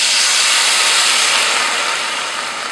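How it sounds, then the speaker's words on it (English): Wine poured into a hot pan while braising beef erupts in a loud, dense hiss of sizzling steam that holds steady, then eases slightly toward the end. "We're going to deglaze the pan."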